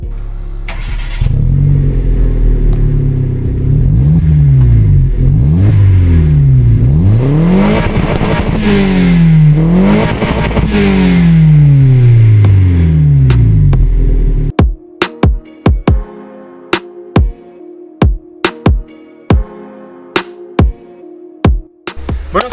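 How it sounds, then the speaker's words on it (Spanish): A 2011 Hyundai Getz with a 1.6 engine starts and is revved loudly several times in rising and falling sweeps, then shuts off, leaving sharp clicks and knocks. "escuchar rugir esos motores, así que Getz, acompáñanos a rugir."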